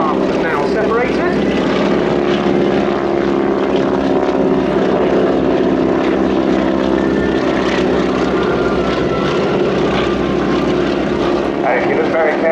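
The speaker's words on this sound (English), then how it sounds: "So you can see the three aircraft are now separated." Propeller aircraft in formation at the Royal International Air Tattoo 2016, carrying wing walkers on the wings, give a loud continuous droning engine roar throughout, with a commentator speaking over it.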